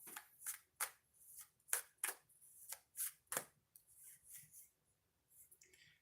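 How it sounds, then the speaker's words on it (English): Oracle cards shuffled by hand in a run of crisp riffling bursts and soft slides, close and fairly quiet, with short pauses between handfuls and no talk. "shuffle it a couple times"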